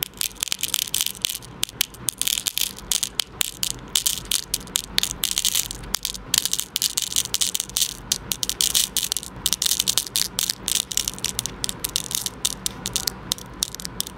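Small beads are picked up and sorted by hand, producing dense, rapid rattling clicks and clattering bursts close by, with brief pauses between handfuls.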